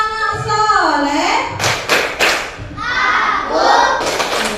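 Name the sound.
children clapping hands in a rhythmic clapping chant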